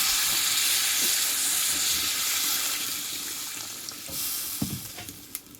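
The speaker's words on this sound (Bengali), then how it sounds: "মশলার সঙ্গে ভালোভাবে কষানো হয়ে গেছে আমি জল দিয়ে দেবো" Water poured into fried spice masala with potato and taro, a loud steaming sizzle that gradually settles into a softer bubbling with a few sharp pops and clinks near the end.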